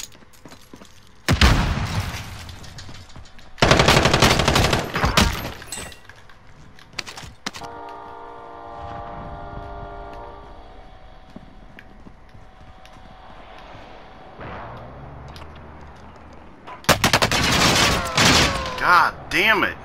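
Call of Duty Warzone gunfire comes in three loud, rapid bursts of shots spread across the stretch, with quieter gaps and some talking between them.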